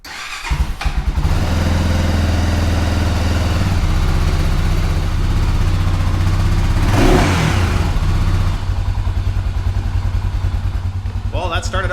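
A Honda 400EX ATV engine with the choke on cranks briefly, catches right away and settles into a steady, loud, close single-cylinder idle in a cold winter setting, with a short blip of revving midway.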